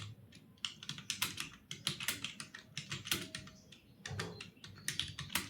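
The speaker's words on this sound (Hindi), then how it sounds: "यहाँ पर टाइपिंग करनी है" Rapid typing on a computer keyboard during typing practice, a dense run of close, crisp key clicks in uneven bursts, heard alone without talk.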